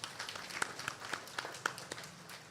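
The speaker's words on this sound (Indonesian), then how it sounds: "Tepuk tangan dulu dong buat kita semua." Faint, scattered clapping from an audience at an indoor ceremony for a kindergarten state-defense education program, with sharp claps in a loose, steady rhythm, heard at a distance.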